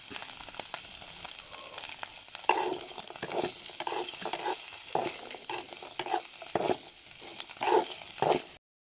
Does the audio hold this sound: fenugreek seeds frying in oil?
yes